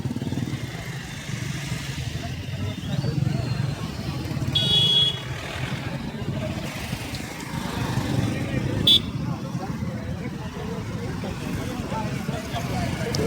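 Steady road traffic on a road from an airport, with motorcycles and cars passing close by in a continuous rumbling stream and someone talking over it.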